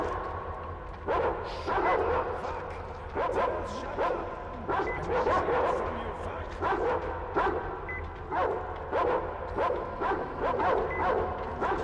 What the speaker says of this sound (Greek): Όχι ρε φίλε, έχει σκυλιά!